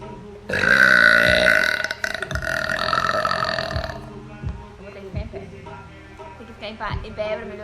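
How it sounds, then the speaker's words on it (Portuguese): Loud, long burps from a woman, several drawn-out belches in a row with short bursts of talk between them. "Em pé pra melhorar esses arrotos, né, que tá muito fraco."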